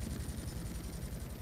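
A police helicopter's rotor thumps in a fast steady pulse over a low engine drone, close and continuous for a brief moment, in the video game GTA: Vice City.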